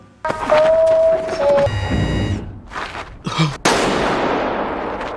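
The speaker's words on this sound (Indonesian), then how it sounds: "beneran ditembak mati" Gunfire from a scene in the film Squid Game: sharp, loud shots ring out amid electronic beeping tones, with the last blast trailing off in a long, fading echo.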